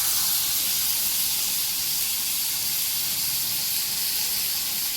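Okra coated in turmeric, chili and salt frying in a pan on a village stove, giving a steady, loud, continuous sizzling hiss with no pauses and no talk over it.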